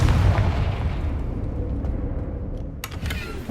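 A fiery blast from the Confringo spell in Hogwarts Legacy: a loud, deep booming rumble that slowly fades, followed by a couple of faint crackling pops.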